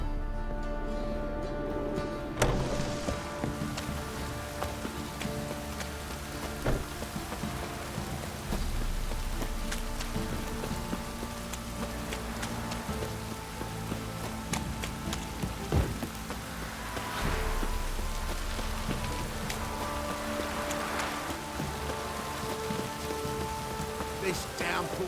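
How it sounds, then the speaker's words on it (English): Downpour in The Witcher 3 video game, a steady drumming of rain on surfaces with faint distant rumbles, continuing for the full stretch with brief muted voices. "This downpour's up."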